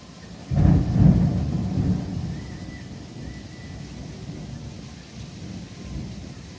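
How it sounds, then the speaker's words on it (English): A heavy thunderstorm: a deep, close rumble of thunder swells early, then steady rain falls on a patio. "There's a mega rainstorm out there."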